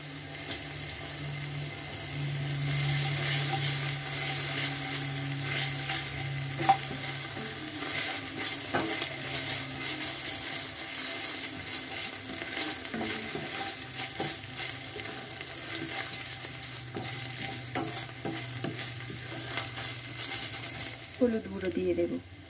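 Chopped tomato, ginger and cumin paste fry in a pan with a steady medium sizzle, stirred now and then with soft scrapes and clinks, and a brief voice murmuring in the background.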